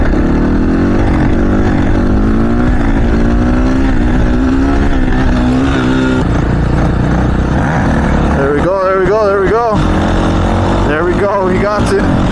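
A motorcycle revs hard while popping a wheelie on a street in downtown Denver, the engine climbing in pitch, dropping off, then surging again in sharp bursts, loud and close with riders talking over it.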